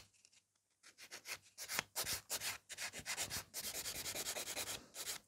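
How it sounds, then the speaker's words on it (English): A nail buffer rubs over gel nail polish with glitter in a quick series of short, rhythmic scraping strokes, faint and close, with no voices. "I'm using the buffer. And I'm buffing to the point when it's safe to buff it"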